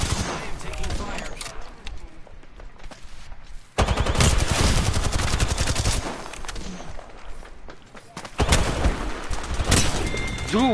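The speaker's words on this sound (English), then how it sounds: "I am taking fire." Video game gunfire: dense, loud bursts of rapid automatic fire, close and nearly continuous, with short breaks between volleys.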